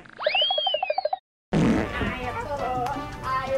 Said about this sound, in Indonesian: Kita kentut aja yuk!